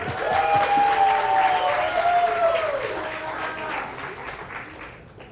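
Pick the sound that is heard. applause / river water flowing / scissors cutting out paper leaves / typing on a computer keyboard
applause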